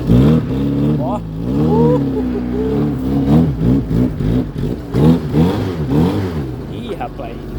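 Fiat 147 pickup engine revs hard in rising and falling surges while one wheel spins on a dirt slope, the motor loud and close with someone talking over it.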